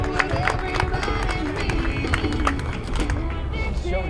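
Rodeo crowd at a barrel racing event in Las Vegas, a steady roar of cheering, clapping and whoops filling the arena under an announcer's voice.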